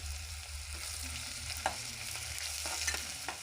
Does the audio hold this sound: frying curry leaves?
yes